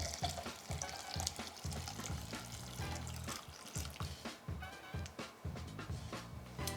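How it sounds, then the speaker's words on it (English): A spoon stirs coffee grounds and cold water inside a French press for cold brew, producing a rapid, repeated sloshing and scraping close by, with no talking. "And again, we're going to stir, make sure that everything's nice and evenly wet there."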